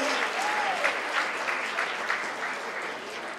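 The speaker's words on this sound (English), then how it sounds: "I want the table 30 to clap there, to applaud" A banquet audience at a Greek culinary charity gala dinner claps in steady, sustained applause filling the hall, with a voice briefly audible over it.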